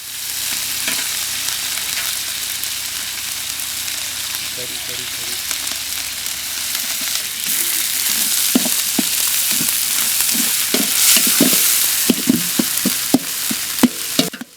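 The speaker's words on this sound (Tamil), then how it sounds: "இப்போ தக்காளி அது கூட சேர்த்து நல்லா வணக்கிக்கலாம்." Steady sizzling of tomatoes sautéing in a pan, with scraping stir strokes and clicks growing busier toward the end; no voices.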